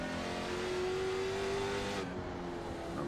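Late model stock car running with a blown left tire in iRacing at Oxford Plains, a steady loud engine drone with a sustained tonal whine, close and continuous throughout.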